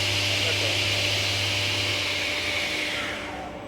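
A Felder woodworking machine motor whirs steadily with a constant hum as its spindle runs up toward 6000 rpm, tapering off slightly toward the end; no clear rise in pitch stands out.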